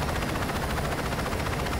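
A helicopter in the game Saints Row 2 flies with a dense, rapid rotor chop and broadband roar, loud and continuous throughout with no talking.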